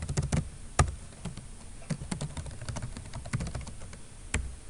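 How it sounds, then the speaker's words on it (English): Fingers type steadily on a computer keyboard during a citation-manager lecture, with close, crisp keystrokes in uneven bursts and no talking. "Let me start typing again."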